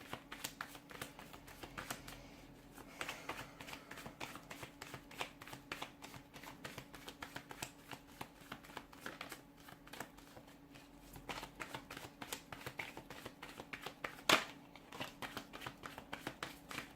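Tarot cards being shuffled and drawn by hand, a quiet, continuous riffling and flicking close by, with soft card slaps and one sharper snap partway through.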